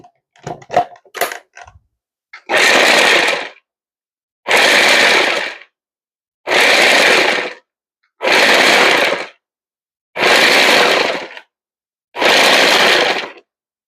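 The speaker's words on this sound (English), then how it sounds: "I have put the dates and the apricots in the food processor and chopped them up some." A food processor chops dates, apricots and nuts in six short, loud pulses of roughly equal length, separated by brief silences, after a few sharp clicks at the start.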